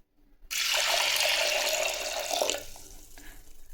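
Water pours steadily in a loud, splashing stream for a couple of seconds, then thins to a softer trickle.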